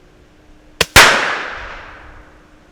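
An airgun fires a short, sharp crack, and a split second later the Flare Sniper exploding target it hits detonates with a loud bang that rings out and decays over about a second and a half outdoors.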